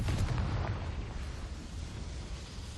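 A Confringo fire spell explodes in Hogwarts Legacy, a loud, dense burst of rumbling blast noise that hits at once and rolls on steadily with crackling texture for a few seconds, with no voices.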